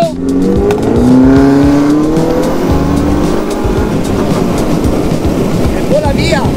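A Jaguar I-PACE electric car accelerates hard in dynamic mode: a loud, steady rush of road and wind noise with a rising electric-motor whine through the first couple of seconds, heard from inside the cabin.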